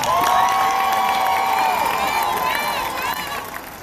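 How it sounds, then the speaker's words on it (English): Audience applause and cheering for Ms. Burrows, with a crowd clapping and whooping loudly around a voice that trails off, the noise easing slightly toward the end. "Let's please give Ms. Burrows one more round of applause."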